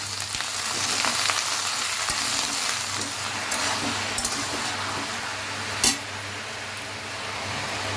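Bottle gourd pieces, tomato and salt sizzle steadily in a hot pan for a Bengali lau bori ghonto, a continuous close frying hiss with a few soft clinks and one brief sharp knock.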